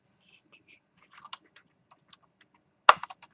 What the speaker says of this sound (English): I'm just going to type it in here